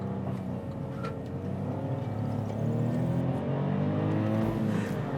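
A 2020 Kia Picanto GT hot hatch with sport steering and suspension drives along, its engine humming steadily from inside the cabin with a gradual rise in revs and road noise.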